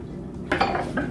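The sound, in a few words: saucepan of butter, honey and liquids placed on stove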